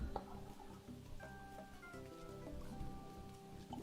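Rain falls in the video game Great God Grove, a soft steady patter under bright game music with sustained melodic tones, fairly quiet and continuous with no talk.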